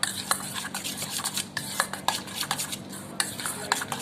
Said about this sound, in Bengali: কিছুক্ষণ এইভাবে আমরা ম্যাশ করে নেব